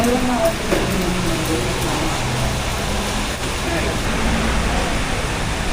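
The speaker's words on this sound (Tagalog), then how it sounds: "kaso nga lang biglang umulan" Rain falls steadily as a continuous hiss, with faint scattered patter over it and a low rumble beneath.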